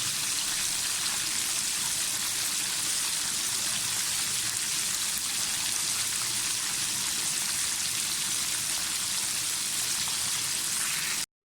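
Chicken pieces fry in hot oil for crispy restaurant-style broast chicken over medium heat, a dense, steady sizzle like rain that stays loud and even throughout, with no voices, cutting off abruptly at the end.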